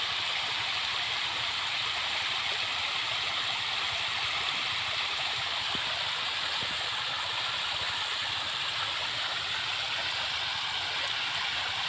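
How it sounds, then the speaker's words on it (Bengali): A pond aerator pumps pond water back through a twenty-foot pipe, a steady, close rushing splash of falling water that runs evenly throughout with no voices. "আশা করি এটা একটা অ্যারেটারের কাজ হয়ে যাচ্ছে দেখতে থাকেন খুব সুন্দর"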